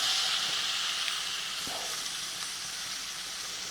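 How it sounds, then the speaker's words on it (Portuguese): Sirloin steak sears in its own rendered fat in a pan, giving a steady, close sizzle and hiss with a faint pop partway through. "eu já vou começar a selar as laterais do meu contrafilé"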